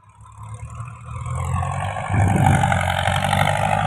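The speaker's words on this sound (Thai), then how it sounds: "อาจจะมีรถอาจจะมีเสียงรถไถ" A tractor engine rumbles nearby with a low, heavy drone that grows louder and rougher as it pushes soil, continuous and without voices.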